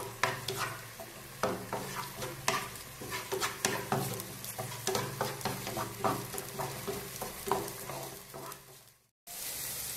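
Chopped onion and garlic are stirred in a pan for risotto, with repeated scraping and clicking strokes of a spoon over a soft sizzle, steady and rhythmic, ending in a brief cut.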